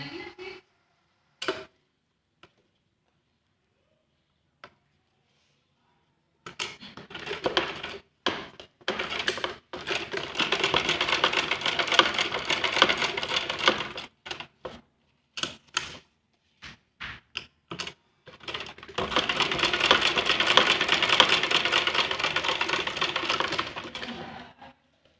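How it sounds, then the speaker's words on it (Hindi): A sewing machine stitching a Laddu Gopal doll dress, running in close, steady whirring bursts separated by sharp clicks and pauses, no voices. "अब इसी तरह से हमें दूसरी ओर सिलाई लगानी है।"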